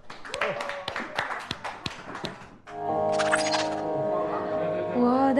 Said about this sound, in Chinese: 好，掌声，掌声。